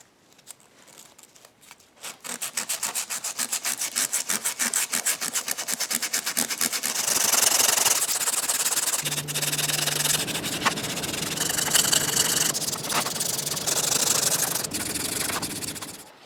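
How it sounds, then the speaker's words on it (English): Hand sanding the wooden sidewalls and bottom of a Dragonslayer sword handguard, a rapid, rhythmic back-and-forth rasping that starts faint, then grows close and loud and keeps going steadily for many seconds. "this way I can sand the sidewalls and the bottom at the same time"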